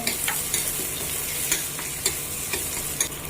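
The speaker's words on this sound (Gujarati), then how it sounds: "કાંદો અને ટમેટું એને સાંતળી." Onion and tomato sauté in hot oil, giving a steady close sizzle with a few soft stirring scrapes and clinks spread through it; no talking.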